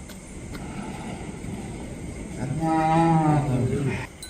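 A Khillar cow gives a long, loud moo close by, after a few seconds of quiet outdoor background.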